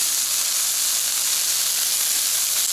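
Bacon and burgers sizzle on a Blackstone griddle outdoors, a steady bright hiss of frying fat that stays even and close throughout with no talking.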